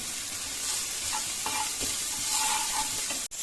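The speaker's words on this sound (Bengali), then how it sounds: "ভর্তাটা করার জন্য আমি চিংড়ি মাছ আর কিছু আস্ত পেঁয়াজ আর রসুন তেলে নিচ্ছি তেল দিয়ে আর এখানে চিংড়ি মাছের মাথাগুলো সহই দিচ্ছি" Shrimp with their heads on, whole onions and garlic cloves frying in hot oil, a steady close sizzle with a few brief stirring scrapes and a short knock near the end, no voices.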